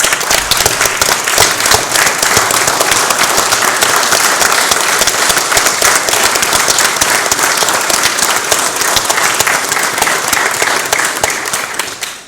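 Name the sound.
standing applause from audience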